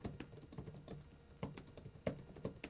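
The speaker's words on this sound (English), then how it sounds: "putting your hands over this keyboard makes you feel like you're a child" Quick, quiet clicking keystrokes on a large Alienware laptop keyboard, tapped in uneven bursts with a few louder presses, close and alone.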